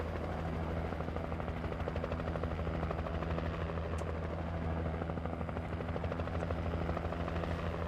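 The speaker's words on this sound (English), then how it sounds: "Oh, Chopper's actually really close by." Helicopter rotors thump steadily and close by in the video game Alan Wake, a loud continuous chopping drone with a low hum that holds through the whole stretch, no talking.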